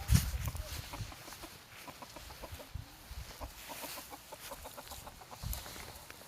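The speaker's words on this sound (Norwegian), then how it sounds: "Jeg tror det er Rhode Island Red." A flock of large Rhode Island Red chickens outdoors in Telemark, clucking in soft repeated bursts at moderate distance, with occasional footsteps or rustling and brief voices.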